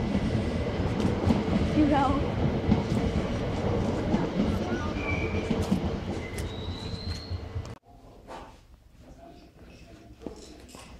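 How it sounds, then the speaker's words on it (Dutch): A real train rolls past at a railway museum, a loud steady rumble with clattering wheels and a high squeal of steel on rail that ends abruptly, leaving quieter station ambience and a short spoken reply. "En daar gaat een echte trein."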